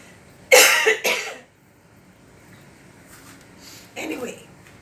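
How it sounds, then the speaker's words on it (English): Two loud, harsh throat-clearing bursts close to the mic, followed by a quieter stretch of faint murmuring and a soft vocal sound. "Clear your throat."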